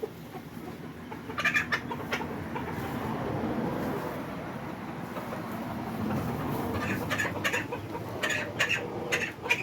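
Backyard chickens in a warm coop cluck on and off while pecking at pumpkin, cabbage and a feeder block, making a soft, steady scratchy bed of noise with brief clucks rising above it throughout.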